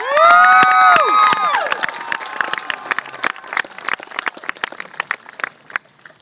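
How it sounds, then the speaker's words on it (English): Graduation ceremony audience applauding and cheering for teachers, first a loud swell of crowd noise with sustained tonal cheers, then thinning into scattered individual claps that fade toward the end. "you guys can give a little round of applause for teachers right now"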